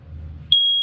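A low rumble gives way to a single loud, steady high-pitched electronic beep from an RV smoke detector in a 2022 Wildwood 167RBKX travel trailer, holding continuously for about half a second.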